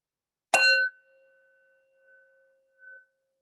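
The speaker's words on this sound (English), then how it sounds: "rest your attention on the sound of the bell all the way until it dissolves into emptiness" A Tibetan bell struck once, ringing out with a bright metallic attack, then a long sustained tone that slowly fades into silence, with faint swells of the hum lingering near the end.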